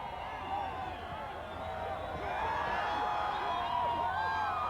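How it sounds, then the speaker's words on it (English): Dense, steady roar of a large crowd cheering and shouting along the 1987 Minnesota Twins World Series championship parade route, continuous and loud throughout, swelling slightly toward the end. "And the crowd has not let up, not for 1 minute."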